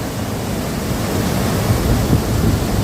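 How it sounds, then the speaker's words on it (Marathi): The Kara river rushes over a small waterfall, a dense continuous roar of flowing water, steady and loud throughout with no voices. "ही करा नदी आहे"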